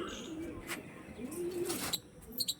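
A Kaldoma pigeon pair, a Chatiyal cock with a bald-headed hen, coos softly and low in a couple of drawn-out phrases, with faint chirps and a few sharp knocks near the end.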